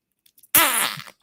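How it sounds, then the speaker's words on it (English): A single loud, wet, buzzing fart bursts out after near silence, lasting about half a second before trailing off, with a brief sound at the very end. "Oh, did you hear that, y'all? That was my fart."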